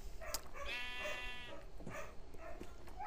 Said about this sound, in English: I thought that sheep just hit me for a second